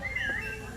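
A short sliding whistle rises and falls within a Spanish stage musical of Pinocchio, heard faintly over a low murmur of background sound.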